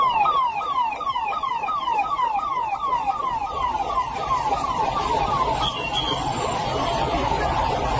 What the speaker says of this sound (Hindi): देखिए साहब किस तरह से सायरन बज रहा है।